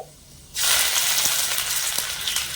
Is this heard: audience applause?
no